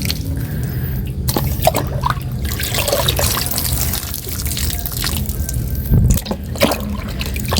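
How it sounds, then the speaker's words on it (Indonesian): Onion solution is poured onto a sunflower plant growing in a pot, giving a close, continuous trickle and splash of water with a few drips and splashes as the stream shifts. "ini kita siram dengan air larutan bawang ya."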